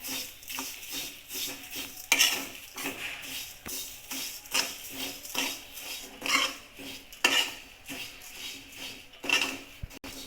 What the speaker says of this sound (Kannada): ಹುರಿದಿಟ್ಕೊಂಡಿರೋ ಶಾವಿಗೆನ ಆ್ಯಡ್ ಮಾಡ್ತಾಯಿದ್ದೀನಿ